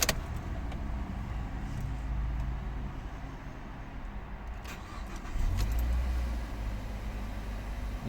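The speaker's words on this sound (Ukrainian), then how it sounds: "Зараз заведемо нашу мазду." A 2013 Mazda 5 2.0 petrol engine turns over on a cold start and catches, then settles into a steady low idle with a slight rise in rumble partway through, heard alone.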